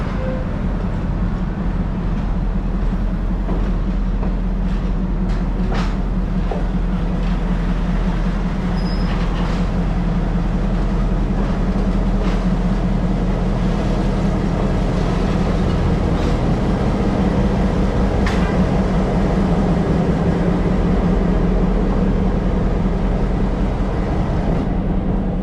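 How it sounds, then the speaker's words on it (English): A Reading Railroad passenger train, number 308, arrives on a winter day on the way to Jim Thorpe, with a loud, continuous low rumble of wheels and cars, scattered clanks, and faint squeals carrying on for the whole span. "Wait a minute, that's our train"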